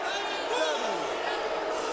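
A boxing arena crowd murmurs and jeers in disapproval, a broad steady roar of many voices throughout, with a commentator talking over it.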